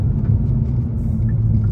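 A 2023 Kia K5 GT-Line pulls hard in third gear and then downshifts, giving a steady, loud low engine and road rumble heard from inside the car with no talking.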